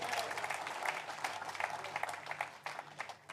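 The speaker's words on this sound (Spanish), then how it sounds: "Vamos a aplaudir a Jesucristo." A church congregation claps together in a steady, dense patter, moderately faint and somewhat distant, with no talking over it.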